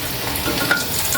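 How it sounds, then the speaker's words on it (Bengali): Chilli chops, battered stuffed green chillies, deep-fry in hot oil with a dense, continuous close-up sizzle and fine bubbling, loud and unbroken for the whole moment. "ওটা হচ্ছে ডোবা তেলে ভাজে।"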